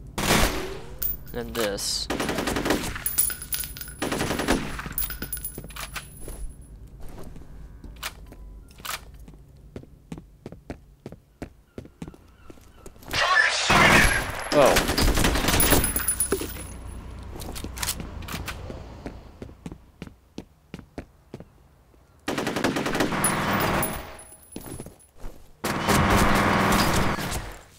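Gunfire from an MP gun and dual pistols in the shooter game F.E.A.R. comes in sharp bursts and rapid volleys, separated by quieter gaps, with someone briefly talking.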